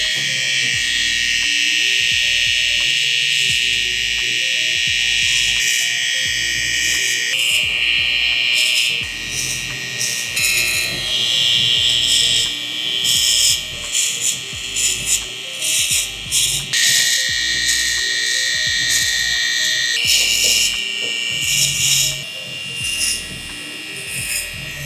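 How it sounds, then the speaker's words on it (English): An electric Saber hair trimmer cuts hair on the side of a head during an at-home haircut, giving a steady high buzzing whine close to the mic that holds throughout, with small shifts in pitch as it moves through the hair. "I'm gonna just go in with the trimmer, which is here with my saber trimmer."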